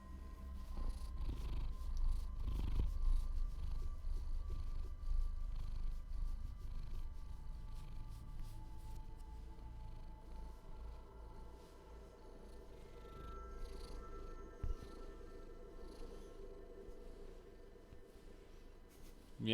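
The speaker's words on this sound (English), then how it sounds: "This is the neighbor's cat, actually." A neighbor's cat purrs close by in a low, continuous rumbling drone that pulses gently, strongest early on and softening later, with faint background noise.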